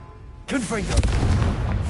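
Confringo fire spell bursts in Hogwarts Legacy, a loud booming blast that erupts suddenly after a quiet start and rumbles on with crackling debris to the end, with a voice mixed in.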